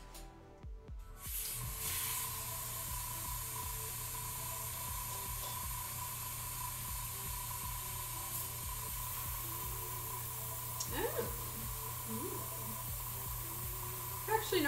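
An airbrush or spray can mists paint onto a garage kit figure, giving a long, steady hiss that runs through most of the clip, with a few faint handling knocks toward the end.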